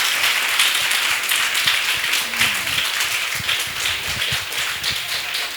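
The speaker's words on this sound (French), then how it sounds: "Sous vos applaudissements" A French television talk-show audience applauds as a guest is welcomed and seated, a steady wash of many hands clapping at moderate volume, with no talking over it.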